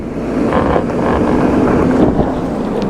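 A Lexus LX600 on 22-inch wheels crawls up a steep off-road hill, its engine a steady low rumble with rising strain, mixed with heavy wind buffeting close to the microphone.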